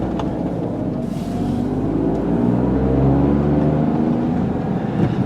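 Interior drone of a 2009 Smart car with automatic transmission while driving, a loud steady engine hum whose pitch shifts partway through as the gearbox changes gear, no talk.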